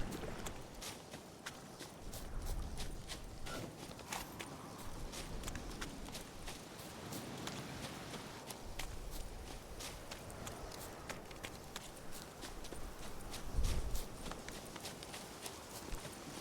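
Rapid footsteps of a character walking fast on foot through woodland in The Witcher 3: Wild Hunt, a steady clip-clop-like stream of treads running throughout at moderate level over ambient background.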